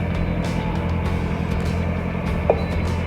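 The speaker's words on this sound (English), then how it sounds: "Noise you hear, Joe's just bringing the tractor around." A farm tractor driven nearby, a steady low engine rumble that holds throughout with a faint rattle, no talking over it.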